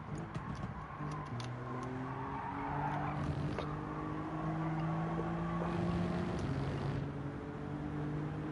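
A touring race car in Gran Turismo 7 at Bathurst braking hard from about 175 mph, its engine note droning and sliding down in pitch as it slows, steady and loud with a faint tyre scrub.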